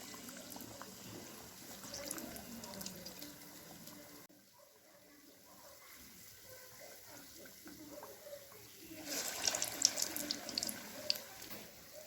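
Sweet urad dal medu vadai with sugar fry in hot oil, making a faint, continuous bubbling sizzle that briefly drops away and then swells louder near the end.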